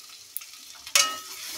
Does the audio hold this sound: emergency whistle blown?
no